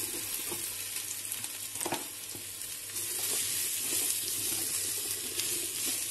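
Portobello mushrooms fry with onion in a griddle pan, a close, continuous sizzle and crackle with occasional stirring scrapes, growing slightly louder partway through; no one talks.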